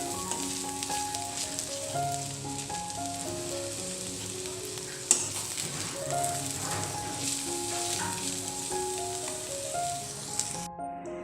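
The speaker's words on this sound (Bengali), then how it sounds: "এখন আমরা এর মধ্যে একটু ধনেপাতা দিয়ে নাড়াচাড়া দিয়ে নামিয়ে নিব" Sliced kakrol, spiny gourd, fries in a pan as coriander leaves are stirred through, a dense steady sizzle with soft scraping of the spatula, close up and uninterrupted, with a faint tonal hum in the background.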